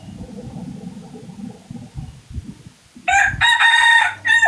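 A rooster crows loudly and close, the crow breaking in after several seconds of low rumbling background noise and carrying on to the end.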